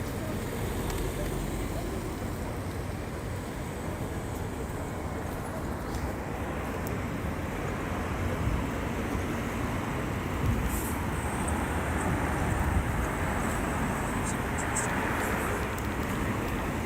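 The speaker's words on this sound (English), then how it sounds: "Sounds okay to me, it's just the traffic." Road traffic makes a steady, dense broadband roar and rumble that continues unbroken for the whole stretch, with no distinct passing vehicles standing out.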